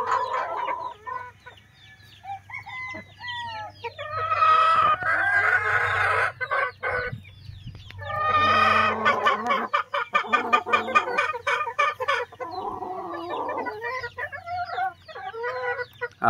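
Gamefowl pullets and stags cluck and crow, with overlapping rooster calls and clucking bursts, close and moderately loud, over a low steady hum, no talk.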